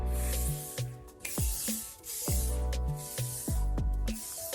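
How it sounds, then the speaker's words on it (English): A spritz spray bottle mists hair in several repeated short bursts, each a loud, close hiss, with music playing underneath. "Here, let me spray some spritz in it."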